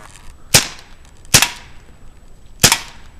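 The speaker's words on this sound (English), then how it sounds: "Let's just shoot the can." A Crosman CO2 air pistol fires pellets at a can, three sharp loud cracks spaced about a second apart, each with a quick metallic ring from the struck can, close by with no talking.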